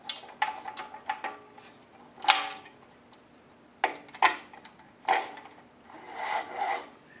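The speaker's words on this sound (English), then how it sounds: "now I've just pulled the cord all the way through the machine out the cam cleat" Cord pulled through the pulleys and cam cleat of a VertiMax Raptor Dual training machine, giving a string of close, scratchy rubbing rasps in short bursts with pauses between them and no talking.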